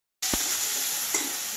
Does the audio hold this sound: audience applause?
no